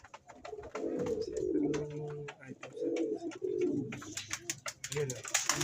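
Pigeons coo steadily from inside a T-trap, their low rolling calls close and continuous while someone talks over them, with faint chirps near the end.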